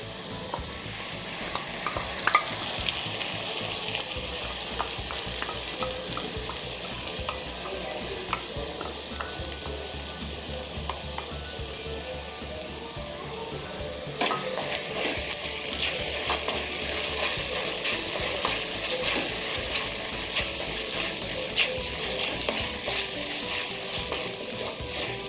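Ground masala paste frying with light-browned onions for chicken butter masala, a steady close hiss of sizzling under intermittent stirring scrapes, louder after the midpoint, with no talking.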